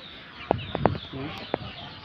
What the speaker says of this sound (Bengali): এখানে সবগুলো দেশি মোরগ,